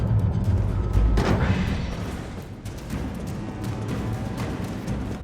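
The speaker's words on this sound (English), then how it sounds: "The time will come when the gunshot is heard" Heavy, booming gunfire from the video game Resident Evil 3 Remake, with repeated loud blasts and crashes over a continuous rumbling game soundscape.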